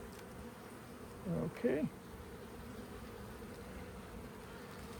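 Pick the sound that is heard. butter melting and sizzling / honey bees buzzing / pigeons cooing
honey bees buzzing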